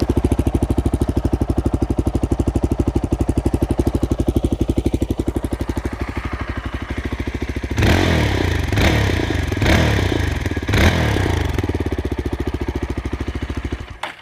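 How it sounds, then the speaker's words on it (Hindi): Exhaust of a 2026 Yezdi Scrambler motorcycle, heard up close: a loud, even thumping idle, then a few sharp throttle blips that rev it up in bursts before it drops back to a steady idle. "एग्जॉस्ट नोट भी इसका काफ़ी ज़्यादा शानदार है।"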